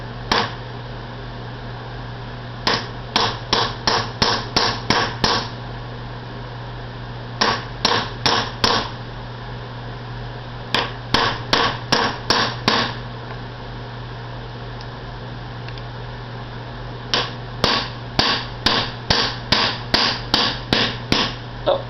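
A hammer drives a staked-in U-joint cap into its yoke in bursts of rapid metallic blows, four to eight strikes per burst with short pauses between, loud and close over a steady background hum.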